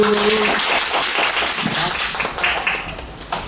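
Applause rises at a Sunday church worship service, a busy patter of many hands under overlapping voices, softening slightly toward the end.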